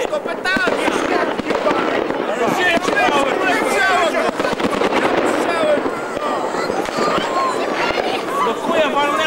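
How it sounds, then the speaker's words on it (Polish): Firecrackers crackle and pop in rapid, dense bursts nearby on New Year's Eve in Białystok, a continuous sharp rattling with excited voices shouting underneath. "To petardy!"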